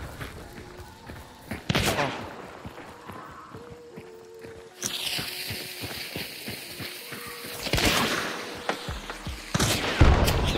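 A frag bomb detonates in the video game Hunt: Showdown, a sudden loud blast followed by scattered gunfire, footsteps and clattering mechanisms amid a tense firefight.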